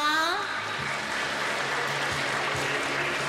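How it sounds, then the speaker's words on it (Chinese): Steady applause from a crowd at a hospital hall unveiling ceremony welcomes the hospital director, a dense, even wash of clapping that runs under a voice speaking over a microphone. "掌声都非常的热烈温馨"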